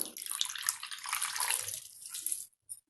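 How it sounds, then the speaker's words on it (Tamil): Water is poured into flattened rice (aval) set to soak for a quick sweet dish, a steady close splashing stream running for about two and a half seconds before stopping, then a short trickle. "கொஞ்சம் தண்ணி விட்டுட்டு"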